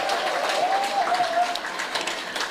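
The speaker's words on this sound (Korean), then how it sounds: "잘 부탁하는 의미에서 박수 한번 쳐주세요." An audience at a talk concert about building a Busan independence movement memorial applauds in a moderate, steady patter, with a brief whistle-like tone rising over the clapping.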